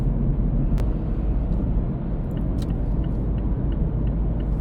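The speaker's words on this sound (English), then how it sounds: "Put it in 6th gear, it's about 1100 RPM right now." Cabin of a Mazda 3 with a six-speed manual cruising in sixth gear at about 1100 RPM and 60 km/h: a steady, loud low engine drone and road rumble, with a few faint clicks and no talking.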